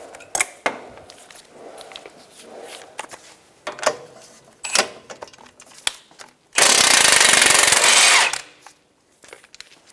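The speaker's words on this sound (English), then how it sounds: "using an impact, we're going to spin off the nut." A power impact wrench spinning off a castle nut on the front steering knuckle of a 2012-2016 Subaru Impreza whirs in one loud, sustained burst of about two seconds, after scattered clanks and handling noises of tools nearby.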